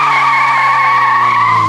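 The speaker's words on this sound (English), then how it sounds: "It chirped in second." A car running on vegetable oil as fuel gives a sustained tire chirp with a steady engine drone as it shifts into second gear, loud and close, with no talking over it.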